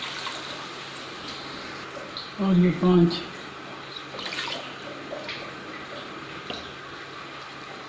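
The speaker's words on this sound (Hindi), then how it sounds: "3 गिलास चावल हैं तो 5 गिलास पानी डालेंगे।" Water is poured glass by glass into a pot of browned chicken before rice is added, giving a couple of short splashing pours while a person talks over a quiet kitchen background.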